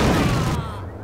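Gunfire in a firefight from the Max Payne video game, a dense loud burst of shots that rings out and decays within about a second.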